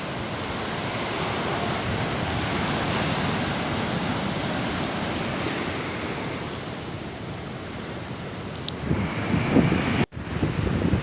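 Waves wash steadily on Kozhikode beach in Kerala, where the sea has pulled far back, making a continuous broad surf roar mixed with wind buffeting the microphone and a brief handling knock near the end.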